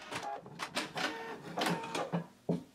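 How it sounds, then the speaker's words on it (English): A sewing machine topstitches along the pressed lower edge of a garment pocket, giving close, loud bursts of rapid needle clatter that start and stop in uneven runs, with no talking. "we're gonna take it to the machine and we're going to top stitch right along this lower pressed edge"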